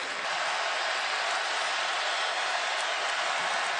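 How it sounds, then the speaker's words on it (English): Alabama Crimson Tide fans roar in a packed stadium during the second half of a national championship football game, a steady, dense wash of distant crowd noise with no pauses or distinct voices. "Tide crowd at this end making some noise"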